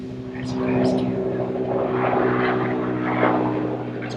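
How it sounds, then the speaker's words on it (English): Helicopters pass overhead, a steady low rotor drone with a buzzing hum that swells and lingers across the whole stretch, heard outdoors. "Now we're getting some helicopters."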